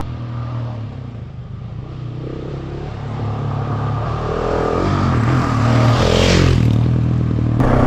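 A Husqvarna 701 Enduro motorcycle rides a mountain track. The engine drones and rises as it revs, with clattering and scraping over rough ground, close and loud, and no voices.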